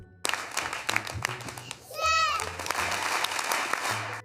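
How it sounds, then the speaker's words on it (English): A studio audience breaks into a loud burst of applause during a talk show taping, starting abruptly, holding steady for several seconds, with speech and other voices mixed in around the clapping. "They clap when we tell them to, like the good trained seals they are."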